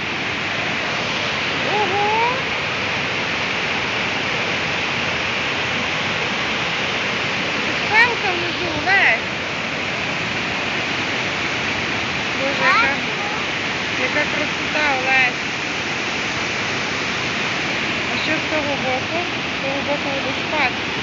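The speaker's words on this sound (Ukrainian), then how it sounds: "Ти на водоспаді, так?" A steady roar of falling water from a Quebec waterfall fills the scene, with a child and an adult chatting intermittently over it.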